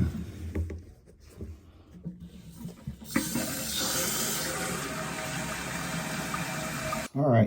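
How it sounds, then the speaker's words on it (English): Water rushes into a water-saving toilet tank through a newly attached supply line, a loud steady hissing fill after a stretch of clattering handling noises, with a sharp break near the end. "Let's get the water line attached and get some water up in this tank"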